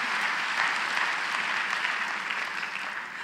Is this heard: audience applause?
yes